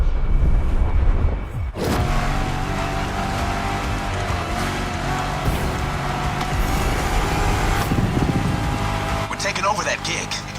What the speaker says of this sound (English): Now you can let the supercharged V8 do the talking.